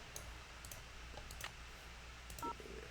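Telephone keypad tones being dialed in the video game Nancy Drew: Danger on Deception Island, a few faint, short beeps among quiet clicks, ending in a brief clear tone, with no talk.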